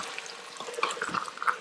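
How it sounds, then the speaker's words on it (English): Lamb sautés in an Instant Pot while a spoon stirs it, a soft sizzle with light scraping and clinks against the pot, close and fairly quiet, with no voices. "Mix this well and saute it for a few minutes. Keep stirring so it doesn't burn at the bottom."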